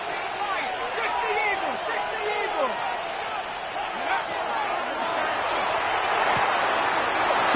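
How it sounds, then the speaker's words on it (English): Crowd roar swells steadily from a stadium in an American football video game featuring the Pittsburgh Steelers, a continuous wash of cheering with occasional thumps beneath it. "This crowd into it now as we get to 3rd down."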